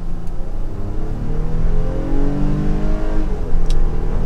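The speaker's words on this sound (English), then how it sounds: "But let's test out some power. We will go into the sport mode," A 2022 Nissan Pathfinder Platinum 4WD's V6 accelerates hard in sport mode, the engine note climbing steadily through the revs from inside the cabin, loud and continuous.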